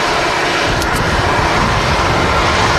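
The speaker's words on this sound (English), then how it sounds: "Jet2 A330 on the taxi as well." A Jet2 Airbus A330 taxis at Manchester Airport, its jet engines giving a loud, steady roar and whine that holds constant throughout with no talking.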